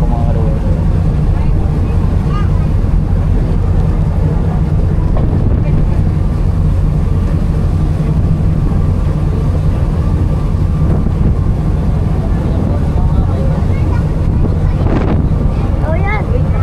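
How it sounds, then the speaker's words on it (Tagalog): A ship turns at sea in strong wind, with a loud, constant low engine rumble under heavy wind buffeting on the microphone and a brief louder gust near the end. "Iikot na yung barko mga karoon."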